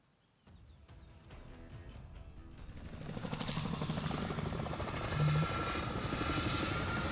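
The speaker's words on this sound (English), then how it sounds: "Me and the helicopter." Helicopter in the video game Warzone, its rotor and engine drone starting abruptly and building into a loud, steady whirring roar that grows closer, with no talk.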